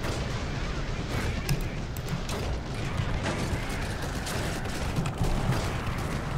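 Bombs explode in War Thunder during a tier 2 tank battle, a dense continuous rumble of booms and crackling impacts rolling on without a break, moderately loud.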